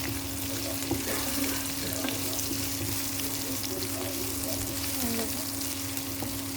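Chopped ginger and garlic fry in oil for a mung dal with fish head, giving a steady, close sizzle with faint scraping stirs throughout and no talk.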